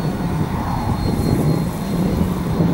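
A 3D printed Folland Gnat model jet with a 30mm electric ducted fan flies in strong wind, its steady whining rush loud and continuous throughout with wind noise and no talk.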